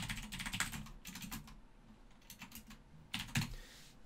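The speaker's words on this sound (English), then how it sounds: "So if we type in like an invalid ID," Typing on a computer keyboard: quick clusters of light key clicks in short bursts with brief pauses between them, close and quiet, with no voices.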